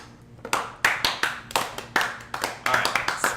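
A small group claps in short, scattered bursts of applause during a fireside storytelling session, with sharp, close hand strikes repeating unevenly before fading.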